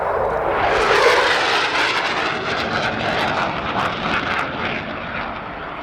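A Swiss military fighter jet at an RAF Cosford airshow rolls away from the crowd, its loud roaring engine noise sweeping across the clip and slowly fading as it recedes, with no voices.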